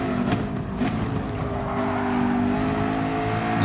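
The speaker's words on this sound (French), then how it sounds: "Encore une Porsche." A Porsche drives past, a steady, loud engine drone with a sustained tonal whine that rises slightly as it goes by, close and continuous with no voices.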